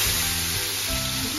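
Chopped onion, tomato and garlic hit hot oil already crackling with cumin seeds, giving a brief, dense, close sizzle with no talking.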